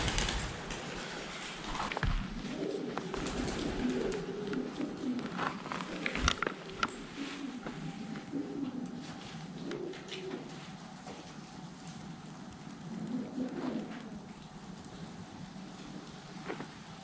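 Pigeons coo inside an abandoned 1920s Victorian school, soft repeated low calls drifting through a hollow room over a steady hiss of ambient noise, with a few sharper knocks and no talking.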